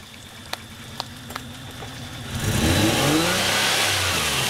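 A Toyota 4Runner stuck in a mud hole idles with a few faint knocks, then its engine revs hard and climbs in pitch, staying loud and strained to the end.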